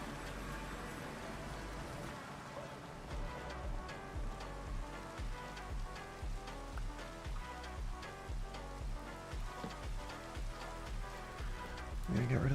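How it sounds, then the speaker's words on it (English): Steady rain falls in a modded Minecraft world, a dense, even hiss of drops holding at a constant moderate level throughout, with a brief louder swell at the very end. "I'm gonna get rid of this rain."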